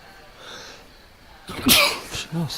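A single sharp sneeze cuts in loud and close after quiet court-side ambience at a women's lawn bowls championship, followed by brief vocal sounds.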